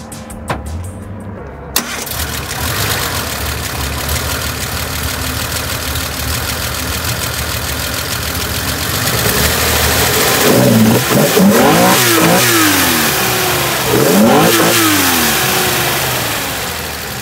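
A Nissan L-type straight-six in a classic Skyline GT-R-spec car starts with a sharp crank, settles into a loud rough idle, then is blipped through several rising revs, recorded close with no talking.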